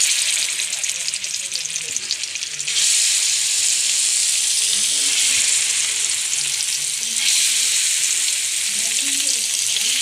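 Mackerel fish frying in a pan of hot oil gives a loud, steady sizzle and hiss that carries on without a break, growing even fuller partway through, with stirring in the background.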